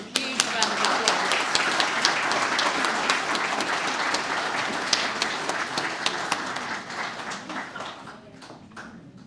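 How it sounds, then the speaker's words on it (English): An audience applauds at a talk on the reopening of Newstead House, with steady, full clapping that holds for several seconds before thinning out and fading toward the end. "Let's give them a huge round of applause."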